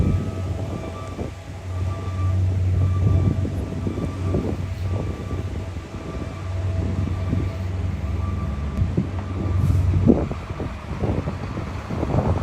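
Rumbling GO commuter train noise with wind buffeting the microphone, a steady low drone and occasional clanks, continuous and fairly loud throughout.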